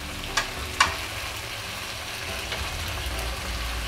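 Chicken jalfrezi sizzling steadily in a pan after chili sauce goes in, a constant frying hiss with a couple of sharp utensil clinks near the start.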